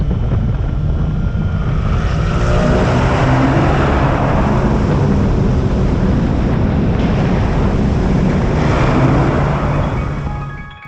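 A 2019 Kawasaki ZX6R sport motorcycle rides through canyons, its engine droning steadily and loudly under heavy wind rush throughout, with the pitch shifting gently as it holds speed and no talking.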